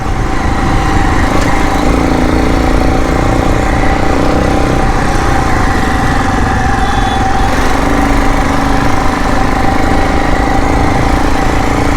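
A modified Bajaj Pulsar 220 motorcycle engine runs loud and near with a constant, buzzing drone, heard alone without talk.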